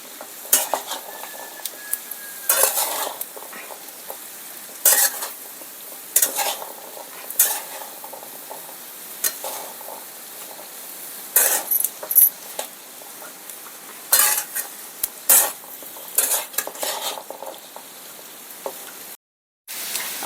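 Raw papaya vegetable pieces frying in a pan are stirred with a utensil, giving repeated sharp scrapes and clinks at an irregular pace over a faint steady sizzle, with no talking.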